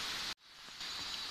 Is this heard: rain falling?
yes